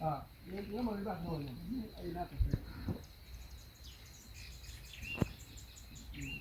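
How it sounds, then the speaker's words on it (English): Birds chirp outdoors by a road in The Gambia with a steady insect hum, while someone talks briefly in the foreground and a couple of sharp knocks sound. "You hear the birds, guys?"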